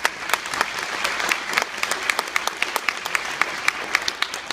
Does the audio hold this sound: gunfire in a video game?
no